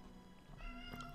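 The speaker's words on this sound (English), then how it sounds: "There's my cat sharing the song of his people," A pet cat gives one faint, short meow close by in a quiet room, with no talking.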